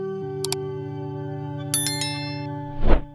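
A notification bell sound effect plays over a sustained synth tone, with a couple of bright metallic dings followed by a short whooshing swell, loud and clean with no talk.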